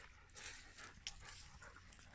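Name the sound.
dog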